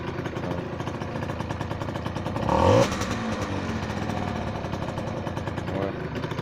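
A small engine idles just after starting, with a steady low chugging and a brief louder burst partway through. Someone talks over it at close range.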